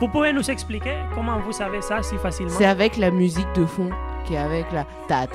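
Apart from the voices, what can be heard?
None of the usual background noises is heard.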